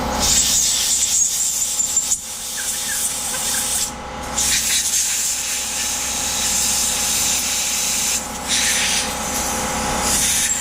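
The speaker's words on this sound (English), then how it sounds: "Now for some compressed air." Compressed air blasts through a small Honda CB125E motorcycle carburetor during a kit rebuild, a steady loud hiss that runs nearly continuously with a couple of short breaks, close up and without talk.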